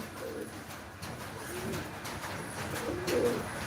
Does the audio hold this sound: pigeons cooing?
yes